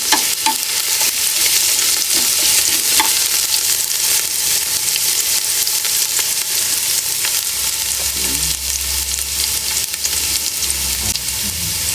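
Onion and garlic fry in a pan for a pinakbet dish, giving a steady, loud sizzle with crackling pops and occasional stirring scrapes that carry on without a break and without talk.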